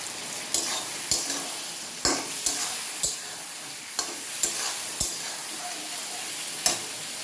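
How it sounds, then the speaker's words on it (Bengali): Spices with turmeric and salt sautéed in a pan for hilsa fish curry: a steady close sizzle broken by regular sharp taps of a spoon against the pan, roughly one each second. "মশলা কষানো হয়ে গিয়েছে"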